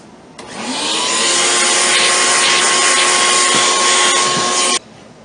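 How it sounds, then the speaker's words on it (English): A vacuum cleaner switches on over wooden boards, runs at a steady loud whine for about four seconds, then cuts off abruptly. "I go over the boards with a vacuum cleaner"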